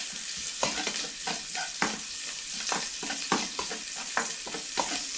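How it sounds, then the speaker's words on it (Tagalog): Onions are sautéed in a pan as the first step of a spaghetti sauce. A steady sizzle runs throughout, broken by repeated scraping strokes of a stirring utensil against the pan. "Gisa po natin lahat. Sibuyas."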